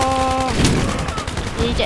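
Weapon fire from the Battlefield 3 video game on the Karkand map, dense bursts of shots with a loud blast near the middle, heard over a voice speaking.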